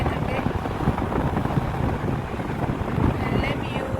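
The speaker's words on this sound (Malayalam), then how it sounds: "നമ്മ ഗ്ലാസ് തുറന്നേരം നല്ല കാറ്റടിക്കുന്നുണ്ട്." Cold wind rushes through an open car window during a mountain road trip to Coorg, a steady loud buffeting roar close to the microphone, with someone talking over it.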